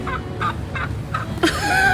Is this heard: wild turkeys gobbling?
yes